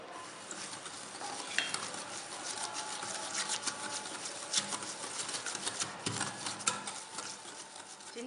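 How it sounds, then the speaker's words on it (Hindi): Sugar and chaat masala being mixed into cream in a bowl, a continuous soft close stirring and scraping with faint clinks of the spoon. "सबसे पहले क्रीम में चीनी मिक्स कर लेंगे अच्छी तरह।"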